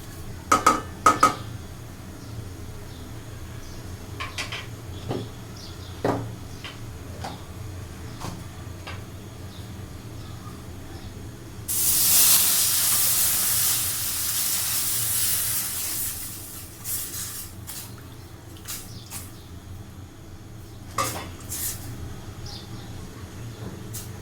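Liquid milk hits hot roasted semolina in a pan with a sudden loud, bright sizzle and steam hiss that lasts a few seconds and fades, framed by scattered clinks of utensils and pans.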